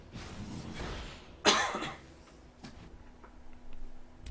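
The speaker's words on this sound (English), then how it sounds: "Sorry if I'm trying to cough every now and then." A single sharp cough rings out close up, followed by a quiet stretch with faint background hum and a few soft ticks; no talking.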